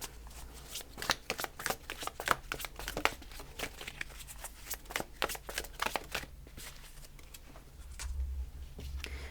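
Tarot cards from the Circle of Life deck being shuffled by hand, a steady run of quick riffling flutters and soft slaps over about nine seconds, close and moderately quiet, with no talking.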